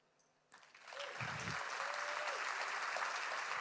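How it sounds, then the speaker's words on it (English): Audience applause breaks out at a developer conference after a talk, starting suddenly and swelling into steady clapping that carries through to the end. "Keep your applause going."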